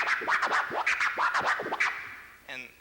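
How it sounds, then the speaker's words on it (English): A DJ scratches a record on a turntable, working two quick tears forward and back with flare clicks between them, a fast burst of close, loud scratch sounds with no speech. "I have a scratch which is the same 2 tears forward, 2 tears backwards, but I add a click of a flare between each tear."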